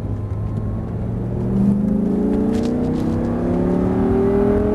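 A car accelerates hard around a driving track, its engine note climbing steadily in pitch as the revs build, close and loud with no voices over it.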